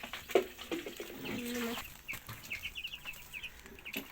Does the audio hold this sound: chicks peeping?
yes